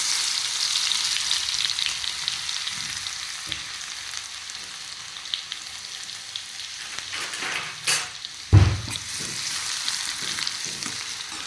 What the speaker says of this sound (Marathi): आणखीन थोडीशी मोहरी टाकून मस्त तडतडू द्यायची